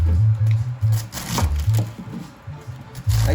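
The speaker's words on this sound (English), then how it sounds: "Chopping up my cabbage in some large chunks." Cabbage being chopped into large chunks with a knife on a cutting board in a home kitchen, a steady series of close, low knocks repeating every fraction of a second.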